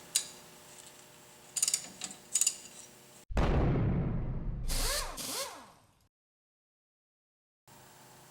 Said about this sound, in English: We're going to go ahead and undo these large fasteners.